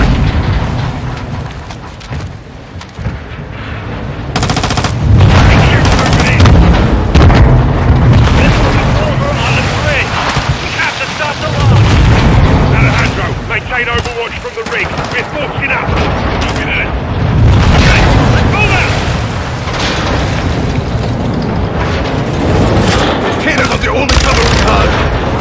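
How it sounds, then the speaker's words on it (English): Loud, dense gunfire and booming blasts roll on continuously in a firefight from the Call of Duty Modern Warfare 2 campaign, with shouted voices mixed into the chaos. "Let's have ourselves a gunfight!"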